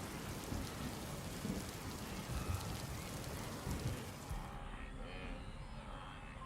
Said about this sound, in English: When the first rains return to the Ndudu region